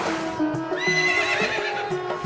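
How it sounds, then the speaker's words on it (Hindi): A horse being led out of its stable gives a loud, close whinny with a rising and falling neigh, with hoof clip-clops on the ground around it. "घोड़े को खोलकर बाहर लाए।"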